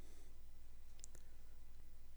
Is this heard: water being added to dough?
no